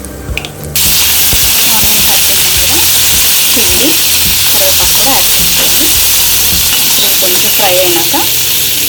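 Onions and capsicum sizzle loudly in hot oil in a pan for a capsicum and potato masala curry, with a steady bright hiss throughout and occasional stirring clinks and scrapes, preceded by a brief quieter moment at the start.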